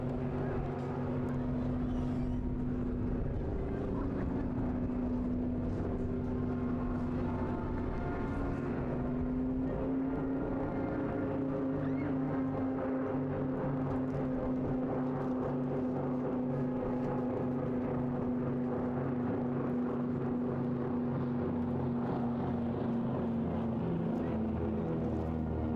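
A Battle of Britain Memorial Flight aircraft makes a fly-past at the Eastbourne International Airshow, with a sustained droning engine hum rising and falling under near-continuous talk from a commentator.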